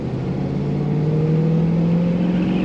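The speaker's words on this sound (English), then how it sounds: "You can rev it up as long as you want. Nice running Thunderbird." A 1957 Ford Thunderbird engine held at a rev, a steady loud mechanical drone whose pitch creeps slightly upward, heard alone.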